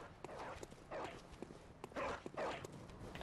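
A hostile dog in the Bloodborne video game, several short barks or snarls in bursts about half a second apart, mixed with footsteps and scuffling, fairly quiet.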